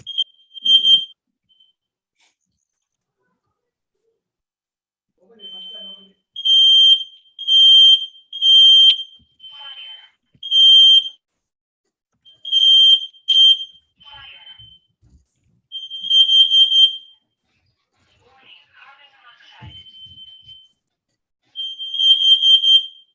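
A smoke alarm sounds in repeated high-pitched beeping bursts, loud and close, with pauses between clusters and brief voices in the gaps.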